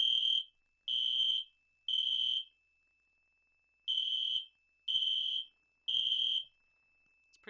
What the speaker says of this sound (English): we will start the system test as all system tests start by pulling the alarm